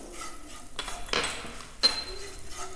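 Semolina being stirred and roasted in melted ghee over a low flame for gur halwa, with close scraping and clinking of a spoon against the pan and a soft sizzle in short bursts.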